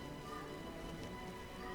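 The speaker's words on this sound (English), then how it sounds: "The rain is giving me a headache." Steady rain falls in The Witcher video game, a soft, even hiss of drops on streets and rooftops in a town quarter, constant and fairly quiet throughout.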